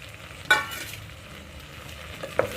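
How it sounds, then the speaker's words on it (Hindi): Meat frying in a pan with black cardamom, cinnamon, cloves and peppercorns, a steady low sizzle with a couple of sharp stirring scrapes and clinks, close by and fairly soft. "मिक्स करके सिर्फ 1 मिनट भुनेंगे इसे।"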